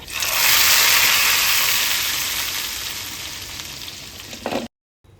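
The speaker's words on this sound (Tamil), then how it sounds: "ஒரு சின்ன வெங்காயம் சேர்த்து வெங்காயம் நல்லா கலர் மாறுற அளவுக்கு வதங்கணும்" Shallots and curry leaves sauté in hot oil for a hotel-style sambar, giving a loud, steady broadband sizzle that tapers slowly before cutting off near the end, with no voices.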